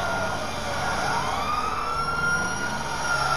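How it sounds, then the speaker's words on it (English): A police siren wails loudly in Grand Theft Auto V, its rising and falling electronic tone sweeping continuously over engine rumble, close and dominant with no talk. "You hear the sirens, that means stop."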